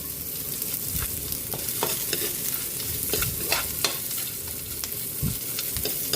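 Onion, garlic and chili sauté in a pan for sinigang, a steady close sizzle broken by scattered scraping and clinking stirs, with no voices.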